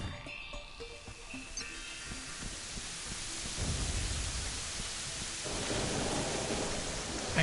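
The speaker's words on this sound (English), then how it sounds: "Even in video games, I can't stand the rain." Rain and thunder in the video game Terraria: steady hissing rainfall with a low rumble of thunder building and swelling midway, after some faint game tones at the start, no voices.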